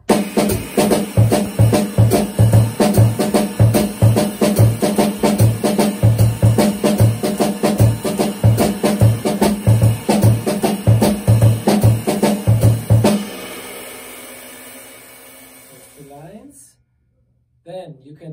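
A steady drum groove alternating crisp snare hits with busier bass drum strokes, loud and up close, running for about thirteen seconds before a ringing decay.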